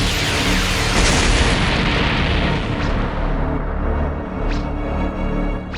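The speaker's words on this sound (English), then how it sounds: "Nappa detonates himself, causing a giant explosion" A giant cartoon explosion as an anime character detonates himself, a loud, dense roaring blast that fills the whole stretch, with a rumbling tail and faint rising whooshes as it slowly thins out.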